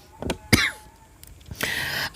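Two or three short, sharp coughs close by, spaced apart, with a quiet background and no talking.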